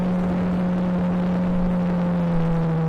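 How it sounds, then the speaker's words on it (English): Onboard sound of a Skip Barber F4 race car at NJMP Lightning, a steady engine drone holding a constant pitch with no audible shifts, moderately loud and alone. "We don't need to hear the car that loud."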